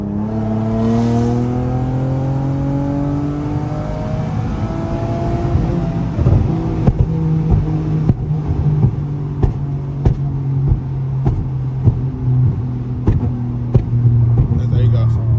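A tuned Infiniti G37 revs loud and close, the engine note sweeping up and down. It is then followed by a string of sharp exhaust pops and crackles in an uneven rhythm. Voices talk over the engine throughout.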